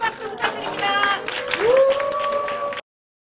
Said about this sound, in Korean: 제발 큰 박수 부탁드립니다.